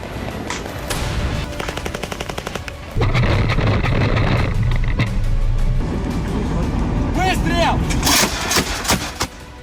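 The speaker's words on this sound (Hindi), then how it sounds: "रूस ने इस बार आर्टिलरी से भीषण प्रहार किया।" Russian artillery and mortar fire strikes around Bakhmut in rapid bursts of sharp gunfire-like cracks and heavy thumps, some fast and chattering, heard from a moderate distance amid noisy battlefield background.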